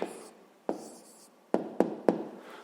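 An answer being written out by hand for a fifth-grade maths problem, with soft scratchy pen strokes and several sharp taps of the pen against the paper, close and fairly quiet.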